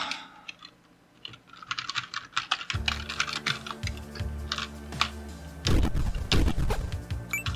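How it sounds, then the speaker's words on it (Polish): Computer keyboard keys clatter in rapid, uneven bursts while someone plays the fighting game Security Breach: Fury's Rage. Sparse taps at first give way to denser, louder pressing over steady game sounds. "większy obszar mojej klawiatury gdzie bije kropką i skacze shiftem"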